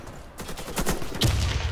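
Rapid gunfire from an AK-103 rifle in the shooter game Warface, a dense burst of close, sharp shots filling the short span with no talk.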